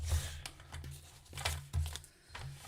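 A sharp craft blade slices through scrap paper for a card, making a few quiet, brief scraping and crinkling strokes in uneven rhythm, close by and faint, without talk.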